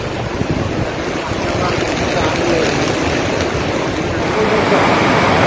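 Floodwater rushing in a river after a landslide in Wayanad, a steady broad roar of churning water, loud and continuous throughout with wind buffeting the microphone.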